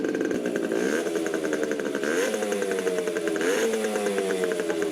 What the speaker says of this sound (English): She's idling. I have the choke on, and it's idling.